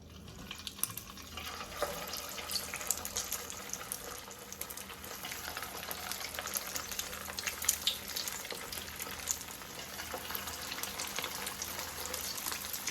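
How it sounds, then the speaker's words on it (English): Crab balls sizzle and crackle steadily in a hot pan, a dense spitting hiss that grows slightly louder over time. "So we're gonna start the frying process."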